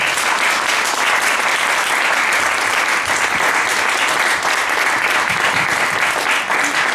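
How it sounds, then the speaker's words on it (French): Loud, sustained applause from a French lecture audience for philosopher Rémi Brague at the close of his talk, many hands clapping in a dense, even wash with no speech. "je crois qu'on peut vous applaudir."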